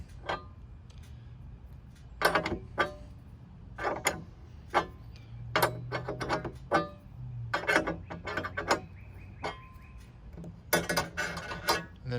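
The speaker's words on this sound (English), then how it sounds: "take a 10mm wrench and loosen up the factory antenna" A 10mm wrench loosening the factory antenna on a Jeep, heard as faint, irregular metallic clicks and taps spread over a quiet background with no speech.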